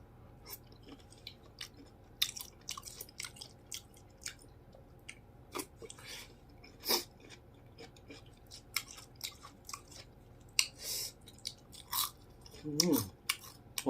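Close, crisp crunching of crispy fried shrimp, fried without batter, and bitter melon being chewed, with irregular bites scattered through the clip and a brief murmur near the end.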